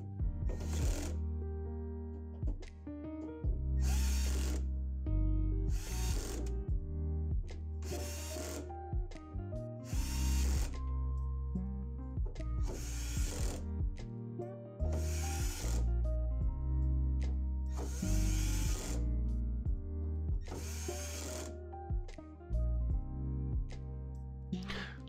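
A power tool tightens bolts on an Antminer S19j Pro bitcoin miner in a repeated pattern of short, loud, buzzing whirs close up, with pauses of mechanical handling between them and no talking.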